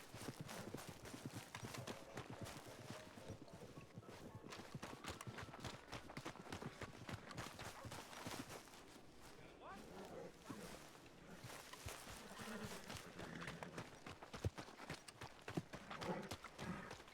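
Horse hooves clip-clop in the video game Red Dead Redemption 2, a quick, steady stream of hoofbeats that carries on throughout at a fairly low level.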